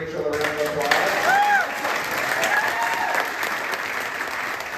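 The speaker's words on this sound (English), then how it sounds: "Give Rachel a round of applause." Round of applause from the crowd at a political regional meeting in New Westminster, BC, steady clapping filling the room with a few whoops and voices mixed in.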